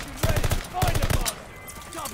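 Rapid automatic gunfire from Call of Duty Vanguard, firing in two close bursts that sound like a machine gun, with a quieter stretch near the end.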